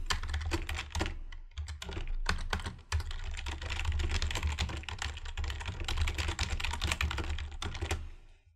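Someone types a headline on a computer keyboard, a close, steady patter of key clicks with a few louder strikes, continuing for several seconds without speech.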